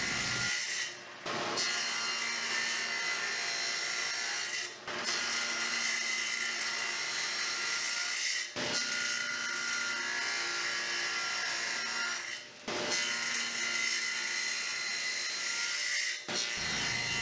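Wooden side boards being cut with a dado setup, a steady loud sawing whine through the wood in four long passes separated by brief pauses, close and without speech.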